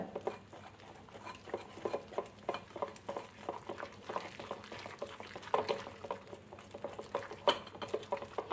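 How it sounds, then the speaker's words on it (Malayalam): Bread pakora batter being whisked with a whisk in a bowl, giving a steady run of quick, soft wet patters and clicks at close range, with no talking. "ഇതുപോലെ ഒരു വിസ്ക് വെച്ച് റെഡിയാക്കുകയാണെങ്കിൽ ഒട്ടും കട്ട കെട്ടാതെ തന്നെ നമുക്ക് ബാറ്റർ റെഡിയായി കിട്ടും"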